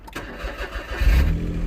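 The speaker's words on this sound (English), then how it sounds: "So I'm going to demonstrate what the problem is by starting the car first." A Smart Fortwo 451 that has been parked for a long time cranks and starts close by, with the starter whirring before the engine catches into a louder, rumbling idle.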